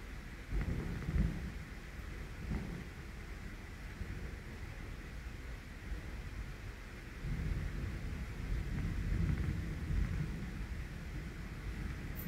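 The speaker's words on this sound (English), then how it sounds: "The thunder is rumbling and booming." Thunder rumbles and booms through a thunderstorm, a long, deep, continuous roll that swells and fades over steady background rain and wind noise, distant rather than sharp.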